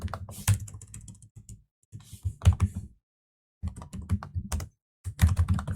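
Close, bursty clatter of keys on a computer keyboard as HTML code is typed, with short pauses between runs of quick taps and no talking.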